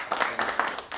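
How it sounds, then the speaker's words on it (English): A short burst of clapping from an audience at a youth day event, scattered hand claps over about a second, moderately loud with a faint voice underneath. "Let's give that a round of applause."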